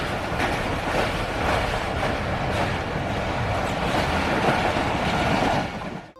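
The Jinnah Express rolls along the rails in Pakistan, its carriage rumble and rhythmic clickety-clack loud and steady throughout, heard from onboard, fading briefly at the end.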